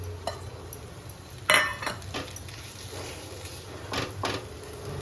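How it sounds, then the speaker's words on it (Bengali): A spoon scrapes and knocks through an eggplant fritter mixture in a pot, giving intermittent clinks and scraping strokes, one sharper clatter early on, under a faint background sizzle. "এবার একটু নেড়ে নিচ্ছি।"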